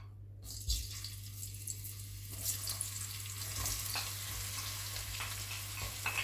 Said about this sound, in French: vu que mon feu il est assez élevé, enfin, j'ai mis au max là, je vais faire revenir les oignons